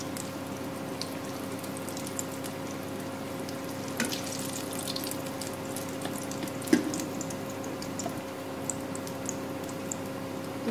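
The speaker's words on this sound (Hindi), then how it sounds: "इसे भी हम 3 से 4 मिनट तक ही फ्राई होने देंगे।" Chocolate balls fry in hot oil with a steady, continuous bubbling sizzle and a faint hum, a few soft clicks over the top and no talking.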